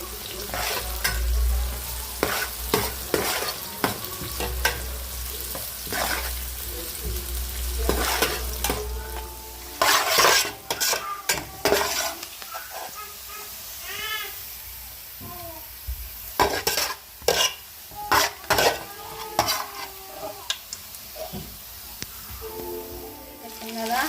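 Chopped onion sizzles in well-heated oil in a pan, a continuous frying hiss broken by spoon stirring and scraping strokes, close and fairly loud, with brief faint voice sounds toward the end.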